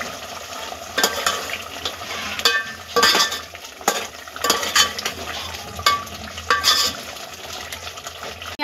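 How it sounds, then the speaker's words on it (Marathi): Eggs fry in oily biryani masala in a pan, a steady sizzle broken by repeated sharp scrapes and clinks of a spoon stirring against the metal, up close and without talk. "अंडी आपली व्यवस्थित मसाल्यामध्ये फ्राय झालेली आहेत।"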